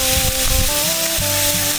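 Steady, loud sizzling and crackling of bread frying in a hot pan, continuous throughout with no talking.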